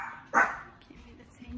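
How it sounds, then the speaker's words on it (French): A pet dog gives a single sharp bark close by at a family pumpkin and apple picking outing, followed by quiet background. "Bon, mon chien qui est ici."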